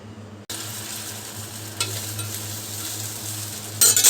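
String beans sizzling and frying in a pan, with a steady hiss that starts abruptly, a brief stirring clatter in the middle and louder sizzling bursts near the end.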